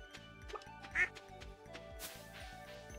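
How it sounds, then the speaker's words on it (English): Duck quacking in the Stardew Valley farming video game, one short quack rising over a repeating game music loop with rhythmic low notes, moderately faint. "Where is the duck? I hear you."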